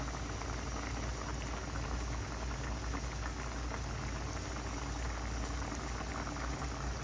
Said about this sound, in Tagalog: Ayan, bumula-bula dahil po sa 7-Up.